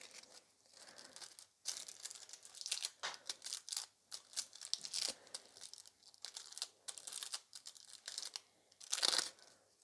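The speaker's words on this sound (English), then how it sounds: "So I've got some gold" Gold nail art foil crinkles and crunches in repeated close bursts, crisp papery rustles broken by short pauses, with no voices.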